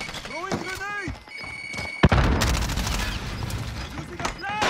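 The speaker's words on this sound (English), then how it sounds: "Throwing grenade!" A thrown grenade goes off in a multiplayer shooter game with a chopper in play: one sharp, loud blast near the middle, followed by a sustained rumbling roar, with voices talking before and after.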